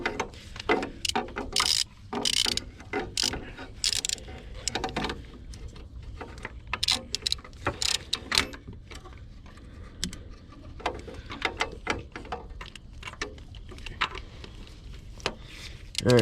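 A ratchet with a socket on an extension works loose an ICP sensor on a 6.0L diesel engine, giving close, irregular clicks and mechanical clatter in short bursts with pauses between them.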